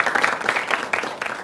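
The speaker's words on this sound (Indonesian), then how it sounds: "Tepuk tangan untuk narasumber kita, Ustadz Insan Ahmad Sholeh." Studio audience applause in a live television religious broadcast, a steady patter of close hand claps filling the whole short stretch with brief swells, no voices over it.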